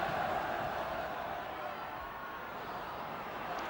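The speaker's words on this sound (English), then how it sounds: "Crowd frantic for a goal" Football match crowd in 1978, a steady roar of distant spectators sustained throughout at moderate level, with a commentator talking over it.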